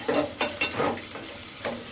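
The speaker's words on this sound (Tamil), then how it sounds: "கடுகு, வெந்தயம், கருவேப்பிலை, வெங்காயம் போட்டு தாளிக்கணும்" Steady sizzling of mustard seeds, fenugreek, curry leaves and onions frying in hot oil, with a few scraping stirs of a spoon against the pan.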